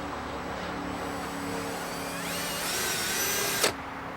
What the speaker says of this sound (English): I just drilled in the wrong hole